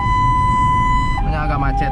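An ambulance siren wails loud and close in traffic during a patient transfer to hospital, a steady tone shifting into a rising and falling pattern partway through.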